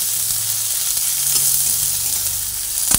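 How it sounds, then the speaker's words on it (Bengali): Chopped onion and garlic fry together in a pan with a steady, close hiss and sizzle, along with faint stirring, and no voices. "পেঁয়াজ আর রসুন একসঙ্গে দুটোই ভাজা হচ্ছে।"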